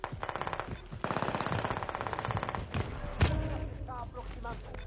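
Rapid automatic gunfire from a weapon in a video game, loud regular bursts of shots in quick succession, followed by a sharp impact and fading game effects.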